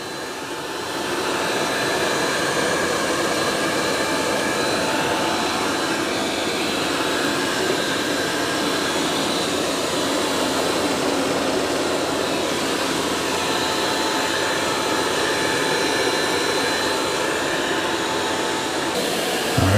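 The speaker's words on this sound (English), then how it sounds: "there's the eufy X10 going on the muddy paw prints" A eufy X10 Pro Omni robot vacuum and mop runs over muddy paw prints, giving a steady, close whirring drone that holds level from start to finish with no voices.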